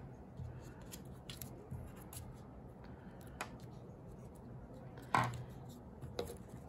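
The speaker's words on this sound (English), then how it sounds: "I even have extra paper that I could make a little beak. Cut a triangle." Scissors cutting a small paper triangle for an owl collage beak: a few quiet, close snips spaced sparsely, with one crisper cut standing out in a hushed room.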